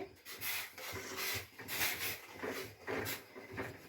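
A spoon rhythmically scrapes and stirs rice flour into hot milky water in a pot, soft repeated rubbing strokes, quiet and close.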